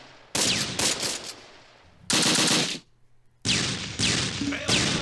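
Loud bursts of machine-gun fire from the WWII tactics game Close Combat: Panthers in the Fog, three heavy volleys separated by short pauses, close and harsh with no talking.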